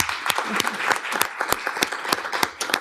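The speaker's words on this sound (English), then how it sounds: "One more round of applause." A room full of people applauds at a city commission meeting in Augusta, Georgia, the dense clapping steady and close throughout.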